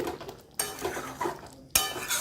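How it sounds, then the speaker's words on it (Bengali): Metal utensils scrape and clink against a pan while stirring fried chana dal balls into gravy, in a few distinct bursts, close and moderately loud, with no talking. "গ্রেভির সাথে মিশিয়ে নিচ্ছি"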